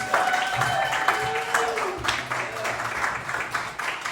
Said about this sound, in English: Round of applause for Esty.